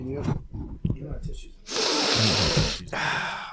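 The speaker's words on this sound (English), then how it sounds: "I gotta blow my nose." A person blows their nose in one loud, rough, hissing burst lasting about a second, close to the microphone, after a short stretch of voices and breathy sounds.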